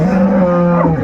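A dairy cow with her calf at a rural cattle market in Dinajpur gives one loud, close, sustained moo that slides down in pitch at the end, with no talk over it.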